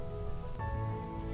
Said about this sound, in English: It was rainy and rough as we sailed on under a double-reefed main and headsail.